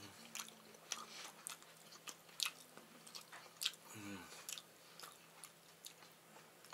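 Fried pink salmon being chewed up close, with soft, wet bites and smacking that repeat irregularly at a quiet level.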